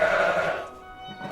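A goat bleat sound effect gives one short, wavering cry, close and alone, that fades quickly.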